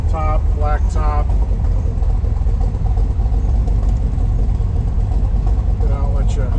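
A car with a side exhaust and a black vinyl top idles with a deep, constant low rumble close by, while someone talks over it near the start and end.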